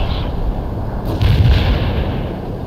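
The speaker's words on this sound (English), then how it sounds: "We're firing at the enemy." Weapons fire at the enemy in the strategy game World in Conflict: thudding artillery and gunfire blasts over constant battle rumble, with a heavier burst of booms midway, loud and without speech.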